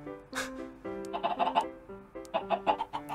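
Minecraft chickens cluck as they are herded toward an animal trap, a cluster of short, choppy bird calls that comes in bursts, loud and close, with no speech over it.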